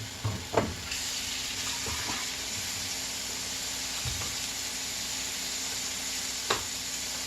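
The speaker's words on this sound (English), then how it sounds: "forgive me for the noise of the water, but I'm actually washing my dish that I use" Water from a kitchen tap runs steadily while a dish is washed, a soft continuous hiss broken by a few clinks and knocks near the start and one sharp clatter late on.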